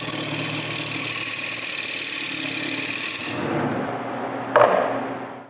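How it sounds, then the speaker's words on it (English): A wood lathe cuts wood from the edge of a wooden plate, a steady loud machine whir with scraping that drops off suddenly as the lathe winds down, followed by a short knock. "I have to remove more wood, but only around the edge of the plate."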